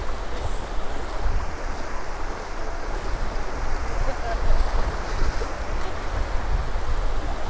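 Ocean surf washing steadily onto a beach at Indian Rocks Beach, Florida, heard as a continuous loud rumble with heavy wind buffeting the microphone.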